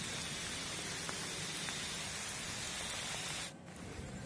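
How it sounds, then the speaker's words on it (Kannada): Steady rain pours down in the Malnad region of Karnataka, a dense close hiss of drops on surfaces that drops abruptly in level near the end. "ಇಷ್ಟು ಆಗಿದೆ ಮಳೆ ಮಲೆನಾಡಲ್ಲಿ."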